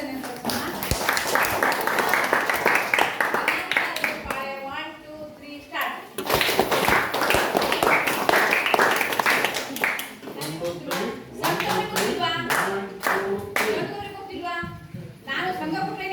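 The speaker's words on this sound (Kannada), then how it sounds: "ಅವರಿಗೆ ಜನಾಧಿಕಾರ ಚಪ್ಪಾಳೆ ಮೂಲಕ ಒಂದು ಅಭಿನಂದನೆ ತೋರಿಸೋಣ" A group claps in a quick, steady rhythm as applause for a teacher at a school parents' meeting. The clapping comes in loud bursts, with a pause between them, and voices are heard around it.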